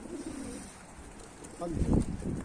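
A tumbler pigeon gives a soft, close coo near the end of a brief stretch of low background noise.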